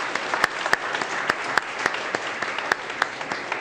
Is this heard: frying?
no